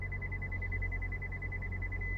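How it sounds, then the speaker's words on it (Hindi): A Maruti Swift ZXI+'s reverse parking sensor beeps in a rapid, steady series of short high-pitched tones that merge into a continuous tone at the end, over a low engine hum. "ये जो बीप आ रही है ये रिवर्स पार्किंग सेंसर्स की बीप है।"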